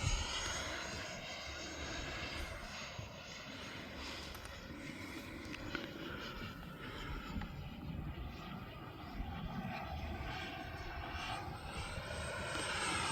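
A 3D printed Fouga model jet aircraft flies overhead, its high whining engine tone sustained and shifting slightly as it passes, moderately distant and without talk.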